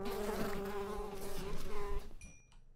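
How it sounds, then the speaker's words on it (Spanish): A wasp in a video game buzzes steadily and fairly loudly for about two seconds with a droning, slightly wavering hum, then cuts off into fainter game tones. "Avispilla, ven aquí. Es una avispa normal, ¿no?"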